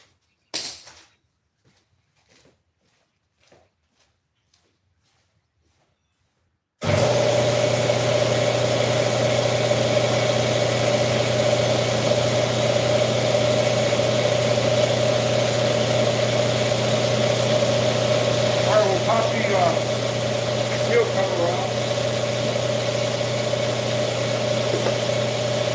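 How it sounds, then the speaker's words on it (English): An air compressor kicks on after several seconds of near silence and then runs loud and steady with a deep droning hum in a garage where an Infiniti M30 convertible is being revived, with faint clinks of tools near the end. "I gotta turn the compressor on so we'll hear some noise."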